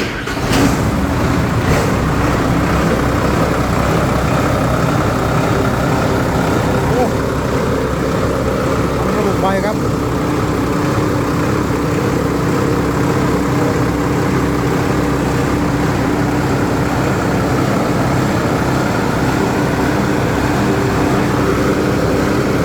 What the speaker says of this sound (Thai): เครื่องยนต์ค่อนข้างที่จะเงียบมากครับผมออบเทอร์โบคู่ครับ